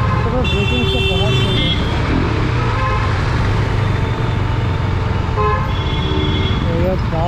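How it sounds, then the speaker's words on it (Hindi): Road traffic heard from a KTM RC 390 motorcycle weaving through it: repeated vehicle horns honk near and far, some long and some short, over a constant engine and roadway roar. "ट्रैफिक यार।"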